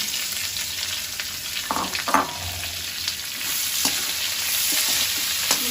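Onions fry in hot oil for pulao, giving a loud, steady sizzle with a few stirring scrapes near the start and no talk.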